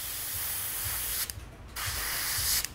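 A spray gun sprays color shift paint in a steady close hiss that cuts out briefly near the middle and resumes, with a short break again near the end.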